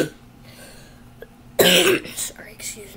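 A single sharp cough bursts out after a quiet stretch, followed by a few softer rough breaths and throat noises, close to the microphone.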